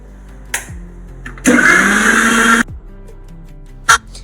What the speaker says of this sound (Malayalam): ഒരു മിക്സിയുടെ ജാറിലോട്ട് നമുക്ക് മാങ്ങയും പഞ്ചസാരയും ഇട്ട് കുറച്ച് വെള്ളവും ഒഴിച്ച് നല്ലവണ്ണം അടിച്ചെടുക്കാം